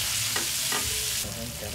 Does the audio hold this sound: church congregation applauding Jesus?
no